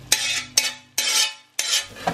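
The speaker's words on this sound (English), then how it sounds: "now we are going to put our onions into the pan to cook for 5 minutes" Onions go into a pan that held browned lamb for a Lancashire hotpot. Four loud, sharp scrapes of a utensil stirring against the pan come in quick succession, each followed by a brief sizzle, with no talking.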